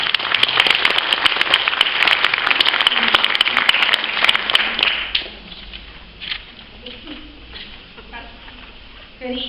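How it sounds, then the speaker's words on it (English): Warm audience applause at an evening soup supper talk greets a speaker coming on. The dense clapping is loud for about five seconds, then falls away abruptly into a quiet room with scattered faint rustles. "Would you please go ahead and give a round of applause as Linda comes on?"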